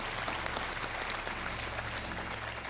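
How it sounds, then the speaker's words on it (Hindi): A studio audience on a quiz show claps in a dense, steady wave of applause that holds evenly throughout, welcoming a guest to the game; no talk rises above it. "तालियों के साथ इनका अभिनंदन"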